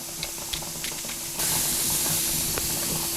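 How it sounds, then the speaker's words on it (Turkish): Tomatoes and onion tossed into a hot dry pan for a Turkish döner recipe give a steady, close hissing sizzle that swells louder partway through and then holds, with a few faint clicks and no talk. "ben onları şöyle kızdırdığım tavanın içine doğrudan atarak ızgara yapıyorum"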